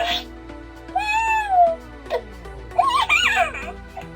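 An IG-12 toy with Grogu plays its electronic Grogu sound effects: a short cooing, babbling baby-creature voice with giggly chirps and rising squeaks over a steady faint electronic hum, heard up close.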